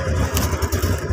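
A car engine runs steadily at idle with a low, even rumble, close and unbroken, before a remote-controlled heavy-duty battery relay cuts it off.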